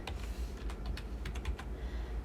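Fast typing on a computer keyboard, a quick run of light clicky keystrokes over a low background hum, close and steady for about two seconds.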